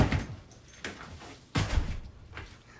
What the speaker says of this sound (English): I'm going to close my door because it's too loud.